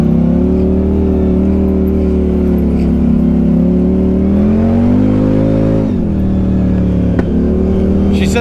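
A CFMOTO ZForce 950 Sport Gen 2 side-by-side engine drones loud and steady on a trail, pitch rising gradually before a brief dip near the end, close and continuous with no talking.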